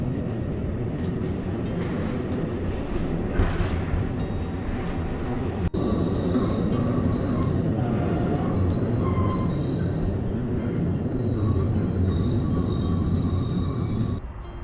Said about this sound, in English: We're just on the tram now, on the way back to the sosta that we're staying in.